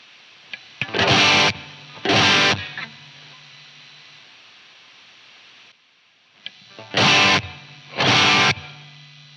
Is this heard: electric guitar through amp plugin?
yes